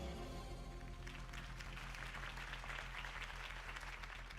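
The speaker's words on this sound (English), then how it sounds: "could have heard that applause" Crowd applause in a Batman video game, dense clapping that swells after a moment and holds at a loud, even level.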